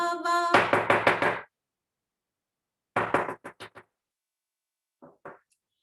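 Knuckles rap on a door in sharp, close bursts: a rapid run of knocks, a pause, another quicker cluster, then two faint final taps.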